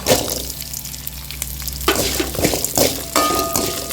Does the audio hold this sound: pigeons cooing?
no